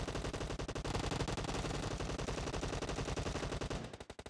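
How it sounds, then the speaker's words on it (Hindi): Rapid, dense automatic gunfire from a video game, a continuous loud burst that breaks into separate spaced shots at the end. "फायरिंग का आवाज बंद"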